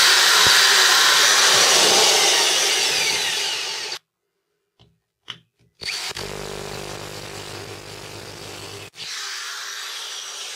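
A power drill building a solar panel frame whirs loudly and steadily, stops for a few seconds with brief bursts, then runs again at a lower pitch.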